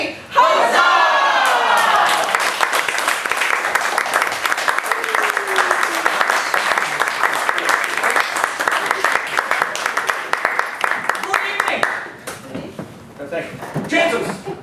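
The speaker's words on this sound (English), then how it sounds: "a typical Shakespearean shout of huzzah, followed by a rousing applause" Theatre audience at a Shakespearean improv show roaring a loud collective "huzzah" shout, then breaking into sustained rousing applause that fades near the end, with a voice emerging afterward.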